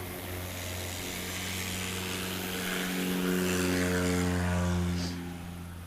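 A STOL airplane at a short-takeoff competition at Patriot Airpark, its propeller engine droning loud and steady and then swelling as it takes off.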